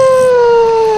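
A person imitates a wolf howl with a single loud, sustained, tonal wail that slides slowly downward in pitch and is held for the whole second.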